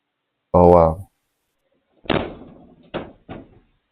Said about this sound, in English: that door shut really hard.